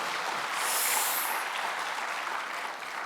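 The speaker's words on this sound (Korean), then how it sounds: "다시 한번 큰 박수 부탁드리겠습니다." A church congregation at a winter camp gives a big round of applause after a choir's hymn, a steady mass of clapping that stays fairly even and then thins toward the end.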